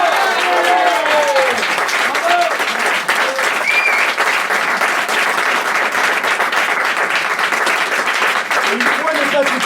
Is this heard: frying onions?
no